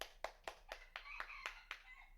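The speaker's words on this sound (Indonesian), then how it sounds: "Tepuk tangan untuk kita semua." Hands clap in a classroom during a peer-teaching lesson, about eight crisp, evenly spaced claps close by, quite faint overall, with a soft voice threading between them.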